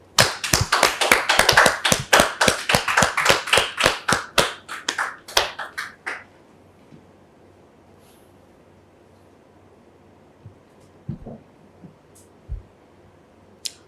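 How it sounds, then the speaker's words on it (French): Studio audience on a French TV talk show clapping to welcome a guest, a few seconds of crisp, fairly close rhythmic claps that stop abruptly, followed by near silence with a few faint scattered sounds. "Est-ce qu'on peut la recevoir sous vos applaudissements"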